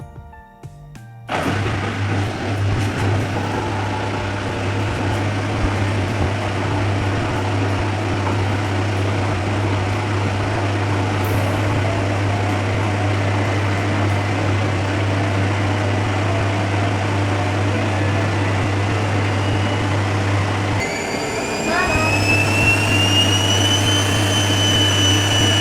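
Defy front-loading washing machine on its spin cycle, a loud steady droning whir with a strong low hum that holds for over twenty seconds, briefly dipping and shifting pitch near the end.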